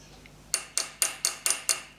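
Six sharp metallic taps from a small hammer striking a metal model aircraft engine part, evenly spaced about a quarter second apart, close and bright.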